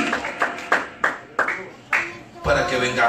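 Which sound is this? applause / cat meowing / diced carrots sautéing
applause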